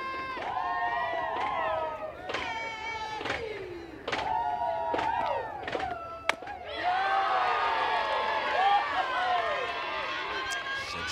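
A good crowd at a college softball game between Alabama and Kentucky on a cool Thursday night cheers and shouts, with excited voices and whoops rising and falling and swelling louder near the end.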